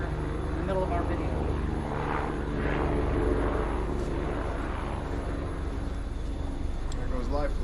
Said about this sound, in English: Who knew we were going to have a drive-by helicopter in the middle of our video?